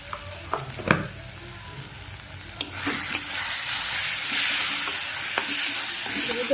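Masala spices fry in a pan for dhaba-style egg tadka, giving a continuous close sizzle broken by scattered scraping clicks as a spoon stirs, with no voices.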